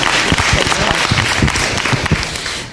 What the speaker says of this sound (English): big round of applause for them coming here to be brave